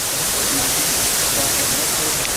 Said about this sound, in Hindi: एक झरना देखिए यहाँ से चल रहा है।